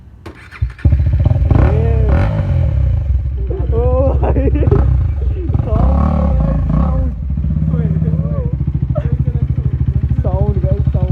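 A KTM Duke 250 motorcycle with its exhaust removed runs loud and raw, rising in repeated revs over a steady rumbling idle, while people talk and shout over it close by.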